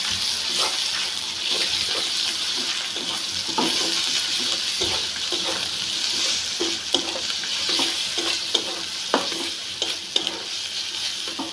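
A spoon scrapes rhythmically through papaya frying in a pan with ginger paste, garlic paste and cumin powder. The repeated stirring strokes sit over a steady, close sizzle.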